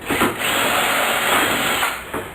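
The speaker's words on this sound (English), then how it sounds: "drill through into the build" A power drill whirs steadily at close range for a couple of seconds, drilling through a van door speaker pocket, a continuous mid-pitched drone with brief dips at the start and end.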